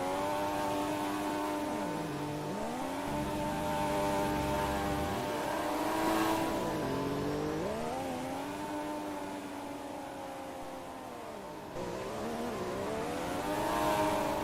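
Race cars on the grid at the Malaysian Grand Prix main race rev their engines while warming up, with several overlapping pitches swelling and dropping. The engines sound moderately distant and no voices are heard.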